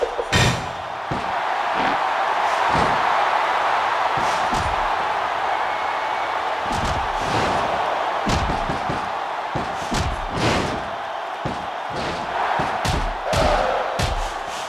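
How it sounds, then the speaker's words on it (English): In the WWE SmackDown! vs. Raw PS2 wrestling game, a roaring arena crowd rumbles continuously while heavy body slams and thuds land repeatedly in an irregular rhythm, loud and close over the crowd noise. "These guys are beating the heck out of each other, and this crowd can't get enough of it."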